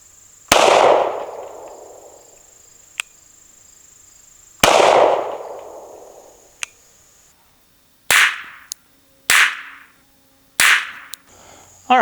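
Five sharp gunshots from a micro compact handgun fitted with a pistol dot sight, fired outdoors at 10 yards: two widely spaced loud cracks with echoing tails, then three quicker shots, each followed by faint clicks.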